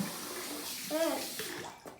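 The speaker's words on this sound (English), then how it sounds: "Now we let the water in." Tap water runs into a bathroom sink after a shave, a soft steady stream with a brief splashy swell midway, fairly quiet, with a voice faintly nearby.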